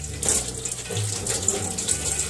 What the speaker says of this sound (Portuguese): vou lavar as folhas de alface e começar a fazer a salada